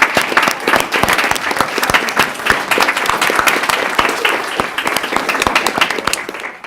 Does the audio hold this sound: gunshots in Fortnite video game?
no